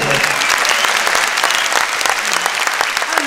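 Loud, enthusiastic crowd applause at an ensemble concert, thick continuous clapping close up, with a few voices faintly mixed in beneath the clapping.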